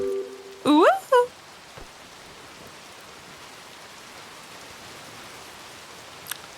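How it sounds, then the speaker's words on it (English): Steady rain falls outdoors as a soft, even hiss throughout, with a brief bird chirp near the start and a faint tick later. "Because it's raining."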